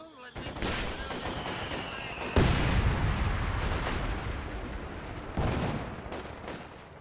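120 mm mortar squads firing in Company of Heroes 2, heavy booming blasts landing at intervals with rumbling explosions and battlefield noise between them.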